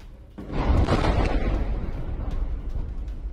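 A violent explosion at sea during an attack on a Greek ship in the Red Sea bursts in suddenly. It is followed by a long, rumbling roar that slowly fades, with no talking.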